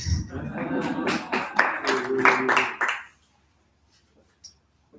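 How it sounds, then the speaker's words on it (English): Applause from an audience at an academic seminar mixed with a voice, dense clapping that stops abruptly after about three seconds, leaving near silence. "And the applause is also for you."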